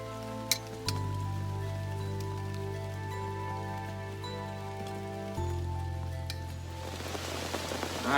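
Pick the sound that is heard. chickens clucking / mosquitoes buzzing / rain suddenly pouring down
rain suddenly pouring down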